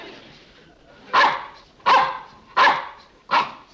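A dog barks four times in a steady rhythm, close and clear, against a quiet indoor background.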